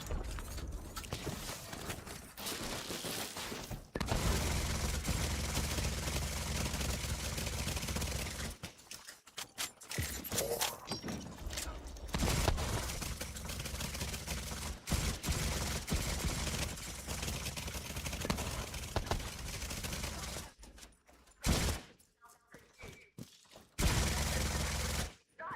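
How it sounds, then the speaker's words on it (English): A minigun fires at red crates in The Division 2 video game, with dense, loud, continuous bursts of rapid gunfire broken by a few brief pauses near the end. "Just have to use the minigun on these stupid red crates now"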